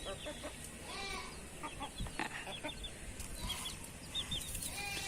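Chickens cluck and chirp softly near feed at a home, with scattered short calls, brief wing flutters and faint scratching, all quiet and without speech.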